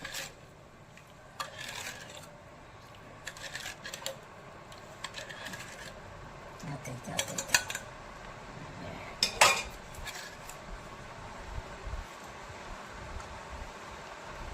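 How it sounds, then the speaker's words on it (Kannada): Rava kajjaya dough being mixed with sugar syrup in a metal vessel, with repeated scraping and clinking of a spoon against the pot in irregular bursts, some sharper metallic taps, close and moderately loud. "ಕಲಸ್ಕೊಂಡು ಇವಾಗ ಸಕ್ಕರೆ ಪಾಕ ಇದಕ್ಕೆ ಹಾಕ್ತೀನಿ"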